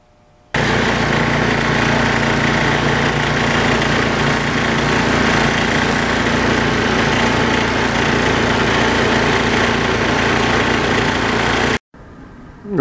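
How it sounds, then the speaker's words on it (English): A snowblower powered by a Suzuki 1000 GS motorcycle engine roars at a loud, steady idle close by for about eleven seconds, then cuts out abruptly. "It's time to fire up the snowblower, the Suzuki 1000 GS powered snowblower."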